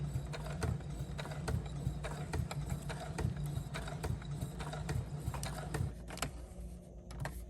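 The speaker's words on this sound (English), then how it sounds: "I'm going to put in the angled stitch." Sewing machine stitches an angled line across a vintage-style journal page, a close, steady mechanical whirr with rapid rhythmic needle ticks running throughout at low volume.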